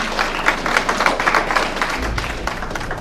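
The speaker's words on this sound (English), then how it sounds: "let's give a round of applause for Vince" Audience applause at an information session for a college soccer showcase in the Bahamas: a steady, dense patter of many hands clapping at a moderate level, filling the room without a break.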